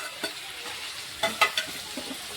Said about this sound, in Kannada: ಆಗಲೇ ಎಣ್ಣೆಗ ಫ್ರೈ ಮಾಡಿ ಇಟ್ಟಿವಲ್ರಿ ಪೈನಾಪಲ್ ಹಣ್ಣನ್ನು ಇದನ್ನು ಇವಾಗ ಸೇರಿಸ್ಕೊಳ್ತೀವಿ ನೋಡಿ